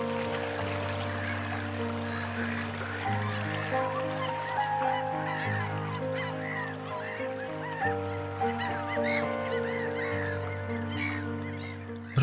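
Birds circling above a fast-flowing river during a fish migration honk and call repeatedly like geese, many voices overlapping steadily over a low continuous drone of rushing water, without speech.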